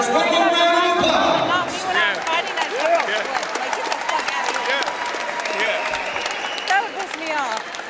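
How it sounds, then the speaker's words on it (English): A crowd applauds two MMA fighters after a cage bout, the clapping and cheering loud at first and then thinning into a scattered patter and murmur, with an announcer's amplified voice and crowd chatter over it. "let's give these two fighters one more round of applause"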